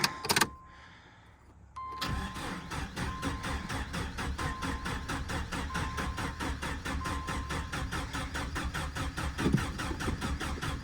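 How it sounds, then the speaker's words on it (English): A car's electric fuel pump whirs briefly, then the engine cranks and catches on a cold morning, settling into a steady, close idle with a fast, even pulsing rhythm and no talking. "Fuel pump's kicking on,"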